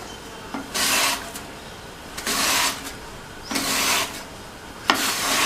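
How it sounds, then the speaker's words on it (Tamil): Raw banana slices being cut on a handheld chips slicer for bajji: four rough, rasping strokes, each about a second long, come close and loud with short pauses between them and no talking. "மேல் தோலை இந்த மாதிரி லைட்டாக சீவிட்டு ஒரு சிப்ஸு சீவுறதில் வச்சு சீவிக்கலாம்."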